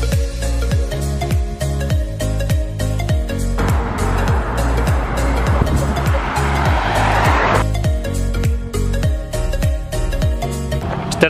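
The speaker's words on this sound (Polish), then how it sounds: "Czternasty samochód." Vehicles rushing past one after another on a Brazilian expressway, heard from the roadside as a steady stream of loud engine and tyre roar, with one heavier truck-like whoosh swelling through the middle.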